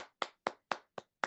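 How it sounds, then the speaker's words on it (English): One person clapping hands six times at a steady, slightly slow rhythm, close and fairly quiet, each clap sharp and isolated against silence. "That is a solo applause, which is clapping."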